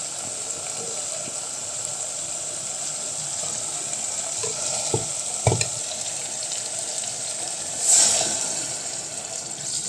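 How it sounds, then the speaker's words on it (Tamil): Chicken curry cooking in a pan as water is poured in, a soft continuous sizzle and watery hiss with a few brief clinks of utensils and a sharper splash burst near the end. "தண்ணி ஊற்றி கொஞ்சமாக தண்ணி ஊற்றி வதக்க விட்டுலாம்"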